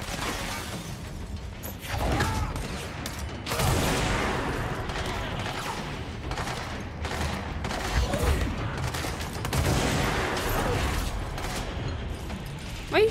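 Enemy gunfire in the video game Control, repeated loud bursts of shots with impacts and shattering debris, dense and sustained across the whole stretch.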